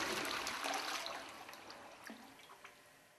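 A Caroma washdown toilet flushes with a rushing wash of water that gradually fades into trickles and drips. It is close and fairly quiet, with no talking.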